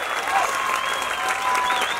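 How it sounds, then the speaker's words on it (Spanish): Steady audience applause at a live stage show in a Spanish-speaking venue, continuous and fairly loud throughout, with a faint voice murmuring underneath. "El aplauso."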